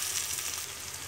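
Green chilies drop into a pan of taro greens frying in oil, giving a steady, close sizzle that holds loud and even throughout, with no talking.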